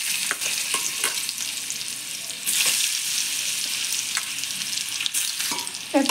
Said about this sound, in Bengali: এবার পেঁপেগুলো ভেজে তুলে নেব লাল লাল করে।